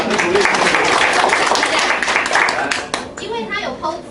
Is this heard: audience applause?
yes